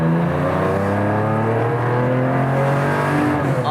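A naturally aspirated Porsche 911 engine revs high from inside the car, a loud, continuous rising and holding engine note with rich harmonics and no talking.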